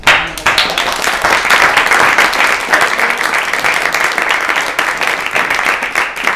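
A steady round of audience applause at a Hand-Eye Supply Curiosity Club talk, dense clapping sustained for several seconds at close, even loudness.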